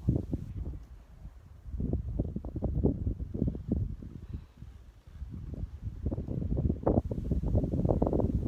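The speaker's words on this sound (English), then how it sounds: "It is pretty windy, at least in this area." Strong wind buffets the microphone while riding a horse, in heavy, gusting rumbles that rise and fall continuously throughout.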